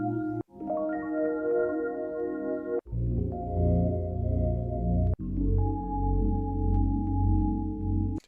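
Mellow Rhodes electric piano samples played on a Dirtywave M8 tracker, sustained warm chords changing in three or four blocks with brief gaps between them, close and steady with no talking.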